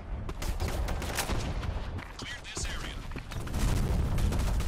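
Random gunfire in the shooter game BlackSquad, a dense run of sharp shots and booms at varying loudness, with a voice talking through it.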